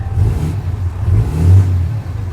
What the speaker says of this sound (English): That exhaust is too loud.